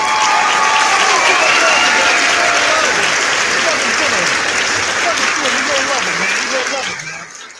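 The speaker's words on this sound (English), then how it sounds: "I got to give him a round of applause" A crowd at a live show claps and cheers to congratulate someone on a wedding, with continuous loud applause that carries on steadily before fading out at the end.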